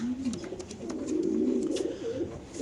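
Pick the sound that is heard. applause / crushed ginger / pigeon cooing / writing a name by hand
pigeon cooing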